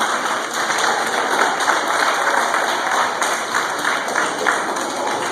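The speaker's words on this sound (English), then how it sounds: "If you give it a round of applause" Audience giving a round of applause at a live youth enrichment event, dense continuous clapping from a crowd, loud and steady throughout.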